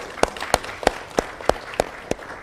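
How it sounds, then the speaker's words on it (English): Slow, evenly spaced hand claps ring out at a peace and security forum in Ghana. The sharp single claps come about three times a second, sparse rather than a full crowd ovation. "Please a round of applause for him."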